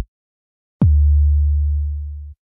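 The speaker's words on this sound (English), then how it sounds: "The current track is a kick drum, so all the samples below are kick drums." A single synthetic kick drum sample previewed in an online drum machine: a sharp click attack followed by a deep, smooth boom that sustains steadily for about a second and a half before cutting off, alone in silence.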